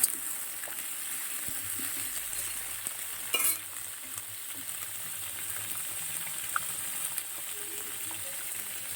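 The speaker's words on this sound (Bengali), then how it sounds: "কুমড়ো শাকে দুটো আলু সেদ্ধ দিয়েছি আর কুমড়ো শাক দিয়ে রান্না করছি" Pumpkin greens cooking with boiled potatoes in a pan, a steady soft sizzle and hiss throughout with a brief stir or scrape near the start, no voices.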